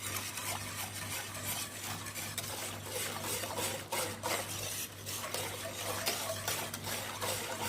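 A spoon stirs a bakemac sauce mixture with spinach in a pot, making soft, repeated scraping and clinking strokes against the metal over a low steady hum, close by and fairly quiet.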